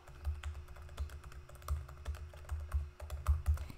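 Fingers type a file name on a computer keyboard, a steady run of soft, close key taps with slightly uneven rhythm and nobody talking.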